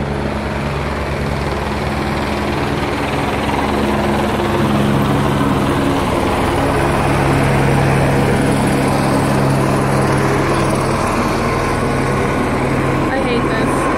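A police helicopter roars loudly overhead above a Hollywood neighborhood, a steady, dense rotor and engine drone that holds for the whole stretch and swells slightly in the middle, with no voice over it.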